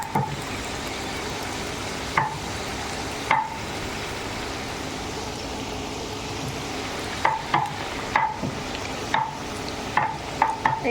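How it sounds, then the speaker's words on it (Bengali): Boondi batter drops frying in hot oil for a Durga Puja sweet, a steady soft sizzle with occasional sharp metallic taps and scrapes of a ladle against the pan. "এই দেখো, এটা একটুখানি কড়া করে ভাজতে পারো বা হালকা রাখতে পারো"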